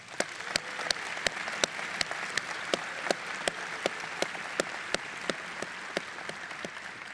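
Sparse, regular single claps ring out over a soft background hiss at a high school commencement, a thin, distant-sounding round of applause rather than a full crowd roar.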